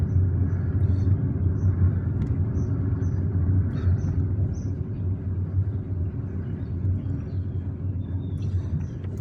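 Steady low rumble of a car driving along a city road in Algiers, heard from inside with continuous engine and tyre noise and no clear voices.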